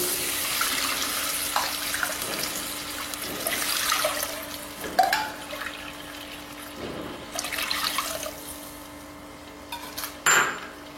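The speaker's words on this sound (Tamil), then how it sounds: "அதே கப்பில் 3 கப் தண்ணி ஊற்றணும்" Water poured in bursts into a cup-measured batch for semolina kozhukattai, splashing and gurgling in several uneven pulses with brief clanks between them.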